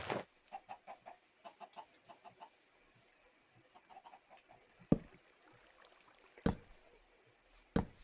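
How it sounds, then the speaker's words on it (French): Chickens cluck in a hardcore survival video game, a run of soft rhythmic clucks followed by a few sharp clicks and thuds, all fairly faint and without speech. "Je vais aller nourrir les poulets"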